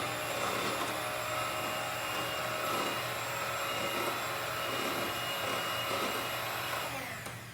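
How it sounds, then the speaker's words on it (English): An electric whisk beats egg whites in a kitchen, giving a steady, loud motor whir that runs unbroken for several seconds. "Whisk that up."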